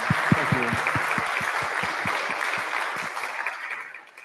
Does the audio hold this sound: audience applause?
yes